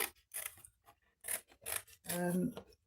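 Scissors cut a round shape out of sheet material for a non-floral wedding bouquet prototype, producing several close rasping strokes in short bursts, with a brief voiced sound near the end.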